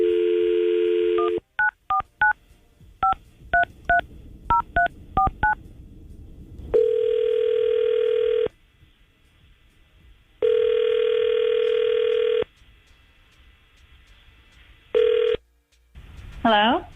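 A radio show call going out: a run of quick touch-tone dialing beeps, then a ringback tone repeating in long even bursts with silent gaps, close and clear, a brief garbled pickup sound at the end.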